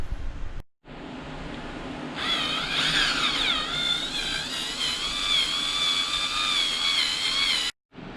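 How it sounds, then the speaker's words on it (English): A power drill whines steadily as it bores a hole in metal for a water temperature sensor, its pitch wavering under load, close and loud for several seconds before stopping. "So we'll get to drilling."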